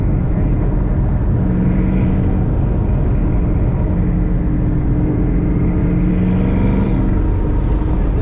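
A twin-turbo Ford Mustang Boss 302 engine while driving gives a loud, constant low rumble and drone from inside the car, with held tones rising and falling as it pulls.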